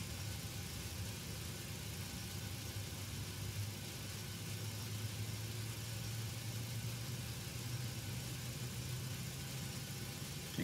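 The PMDG 737NG jet engine spins up in the FSX flight simulator: a steady low droning hum with a slowly rising tone, constant and unbroken throughout.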